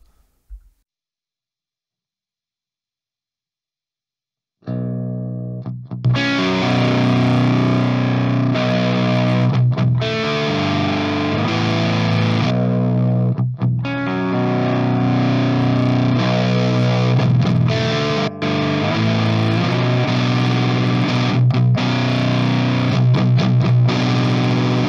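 Electric guitar played through God City Instruments Brutalist and Socialist Jr distortion pedals, loud heavy chugging riffs with sharp stops, starting after a few seconds of silence and continuing without talk.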